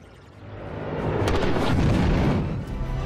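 The LR1K Sonic Cannon firing in the Star Citizen video game, a loud swelling low boom that builds over a couple of seconds and rumbles on without dying away.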